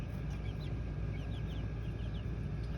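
Chickens cluck and chirp softly while feeding on vegetable scraps such as cucumber, the short calls scattered over a dense, rumbling farmyard background.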